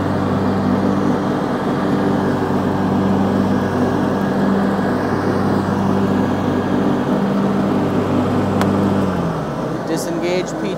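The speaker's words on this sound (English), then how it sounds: "we mow with both blades evenly on both sides in just a small section of yard here" A John Deere X300 lawn tractor mowing with its deck blades engaged, a loud steady engine drone holding constant close to the microphone before the pitch drops near the end.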